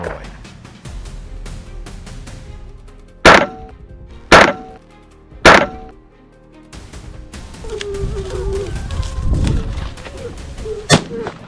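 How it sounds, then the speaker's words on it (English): Three loud, sharp gunshots at roughly one-second intervals during a wild boar hunt, followed by rustling, animal grunts and a fainter final crack. "They panicked and ran away when they heard the gunshots."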